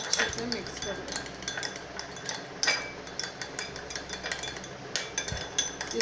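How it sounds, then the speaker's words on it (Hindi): A spoon stirs a homemade rice facial paste mixed with the oil of a vitamin E capsule in a small bowl, giving a steady run of soft scraping with light clinks against the dish, close and moderately quiet. "तो अब इसे हम अच्छे से मिक्स कर देंगे।"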